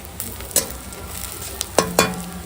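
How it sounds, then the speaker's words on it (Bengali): Chopped onion and chili stirred through whole-spice tempering in hot oil, a low steady sizzle broken by a few sharp spatula scrapes and clicks against the pan, close and with no talking. "ফোড়নের সঙ্গে একটু নেড়ে নিই পেঁয়াজ লঙ্কাটা।"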